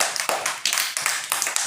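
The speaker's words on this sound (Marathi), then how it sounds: "जोरात टाळ्या वाजवा." Children clap loudly in an anganwadi classroom, a run of bursts of sharp hand claps close by with no talking over them.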